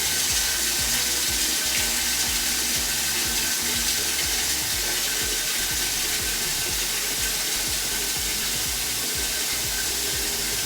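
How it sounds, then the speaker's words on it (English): Water from a kitchen tap runs steadily into a cooking pot being filled halfway for boiling meat, a continuous close rushing splash with the pitch shifting as it fills, no talking over it. "I'm just gonna fill this pot up halfway"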